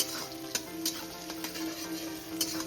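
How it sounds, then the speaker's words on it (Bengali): Onions fry in hot oil for a spicy tilapia curry, a quiet, steady sizzle dotted with small pops and crackles throughout. "এবার আমি পেঁয়াজটাকে একটু লাল লাল করে ভেজে নেব"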